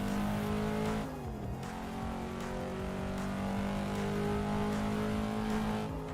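A Volvo flat out on a Japanese road in Assetto Corsa, engine droning steadily at high revs with a brief dip and recovery as the gear changes, loud and sustained with no talking.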